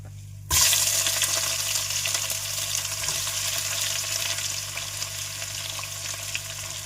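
A sudden loud sizzle as chopped onions hit hot oil in a pan, then a steady crackling fry that continues throughout.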